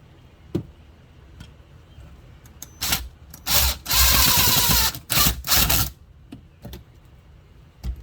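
A drill drives pocket hole screws into wood joined with a Kreg Jig, giving several short whirring bursts, one longer, between light clicks and handling taps.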